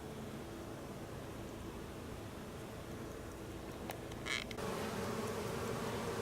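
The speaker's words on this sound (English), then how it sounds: "So you can see all the bees accumulating in the front." Bees crowd at the front of a hive during an oxalic acid vaporizer treatment, making a steady low buzzing drone under constant background hiss, faint and even, with a brief clack near the end.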